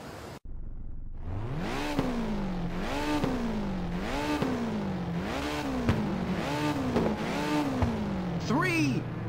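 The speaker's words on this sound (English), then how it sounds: "Now start your engines and get ready." Race car engines in the game Ridge Racer on PSP rev in repeated rising and falling surges, about seven loud pulses in a steady rhythm before the start, with a faint voice near the end.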